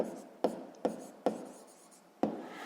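A pen jots down a math solution on paper in four quick scratchy strokes, close and soft, with faint speech in between.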